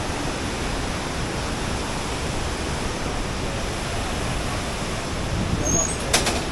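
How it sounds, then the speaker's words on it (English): Continuous broadband roar of a rushing river and waterfall in Vietnam, loud and steady throughout with no gaps, swelling slightly near the end. "Going back up over the rushing river, covered in waterfall"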